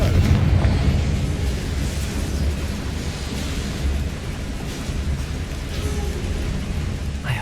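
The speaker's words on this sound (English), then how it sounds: "Incendio should be enough to light these flames." A Confringo spell explodes in the Hogwarts Legacy video game, a loud deep rumbling blast that rolls on and slowly decays over several seconds.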